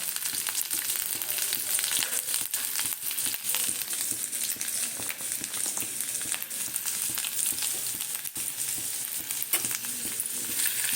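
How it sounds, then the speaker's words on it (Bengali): Chopped ginger and spices frying in oil for an amla pickle, a dense continuous sizzle with crackles and stirring scrapes, no talk. "এইগুলো একটু ভাজা ভাজা হয়ে যাবে আচারের মধ্যে"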